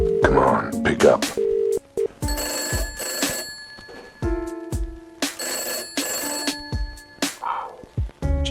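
Telephone ringing in the Cat Detective video game, a repeated electronic ring pattern in short bursts, with someone talking in between the rings.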